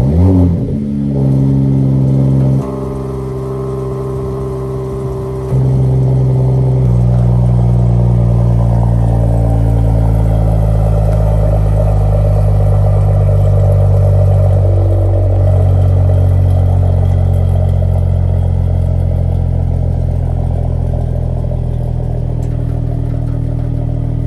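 A 2021 Mercedes-AMG E53 Convertible engine starts with a sharp bark and settles into a loud, deep, steady idle with rumbling exhaust, rising briefly in pitch before easing back down, heard alone at close range.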